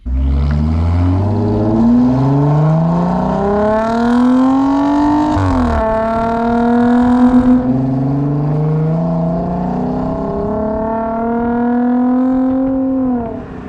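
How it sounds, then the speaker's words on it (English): A 2013 Audi A7, likely fitted with an aftermarket exhaust, revs up in repeated rising sweeps, loud and close, with a deep rasping exhaust note that climbs, drops, then builds again. "the exhaust on this car sounds amazing"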